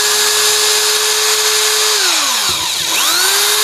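A power tool whines at a steady high pitch while the bolts on the head of an RO diaphragm booster pump are unscrewed, then winds down with a falling tone and a brief restart, loud and close.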